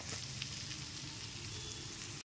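Chopped medium onions dropped into hot oil sizzle and fry steadily in a pan for a chicken and capsicum curry, a dense continuous crackle with no talking, cut by a brief silent gap near the end.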